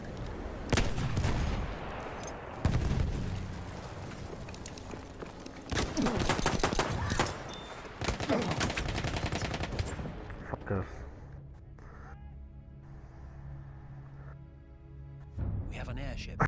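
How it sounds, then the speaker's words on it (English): Machine gun fire in a combat video game: dense, loud bursts of rapid shots in the first half, then quieter game sounds with a sustained tone and a final burst. "Machine gun right there."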